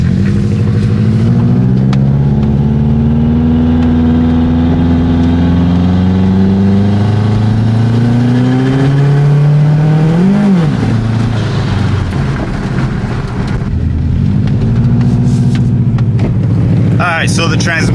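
A Nissan S13.5 with an SR20DET engine and a slipping automatic transmission roars on a dyno, loud and close, its pitch sweeping up in long pulls, dropping at a shift and climbing again, while someone talks over it.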